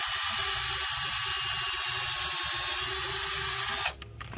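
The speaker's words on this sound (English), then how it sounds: "We're going to pre-drill on the bottom, and I like to try to angle it a little bit." Power drill whirring steadily up close while pre-drilling holes for winter kayak storage, running continuously before winding down at the end.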